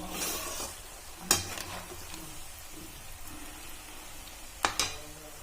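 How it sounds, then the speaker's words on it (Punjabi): Cubed elephant foot yam (jimikand) roasts in a pan with a soft, steady sizzle, broken by two distinct scrapes and clinks of a spoon stirring against the metal. "ਹੁਣ ਆਪਾਂ ਇਹਨਾਂ ਨੂੰ ਭੁੰਨ ਰਹੇ ਹਾਂ ਜਿਮੀ ਕੰਦ ਨੂੰ"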